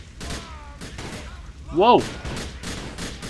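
Gunfire in the motorcycle-gang game GTA The Lost and Damned, with a loud, brief burst of shots near the middle and a man's exclamation among ongoing commentary speech.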